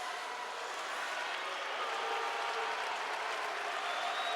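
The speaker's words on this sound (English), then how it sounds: "Crowd getting a little anxious here, turning up the volume." A packed college hockey arena crowd at a WCHA playoff game roars and cheers in a continuous, dense wash of noise, steady and fairly distant, without clear talk.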